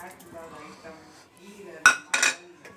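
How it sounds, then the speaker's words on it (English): Metal spatula clinking and scraping against a pan while spices dry roast for a paneer gravy, two sharp close clatters after a quiet stretch. "we have to dry roast all these dry ingredients"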